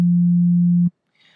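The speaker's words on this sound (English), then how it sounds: "So we can start with a sine wave, for example," A pure, smooth sine-wave tone from the oscillator of a Logic ES2 software synthesizer holds steady and loud for nearly a second, then stops abruptly, leaving faint noise behind.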